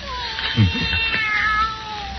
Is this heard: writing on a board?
no